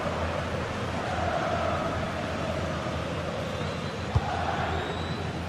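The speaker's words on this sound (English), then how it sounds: "The crowd certainly think so. Just listen to them." A stadium crowd in a football video game keeps up a steady, dense roar throughout, with one brief sharp knock partway through.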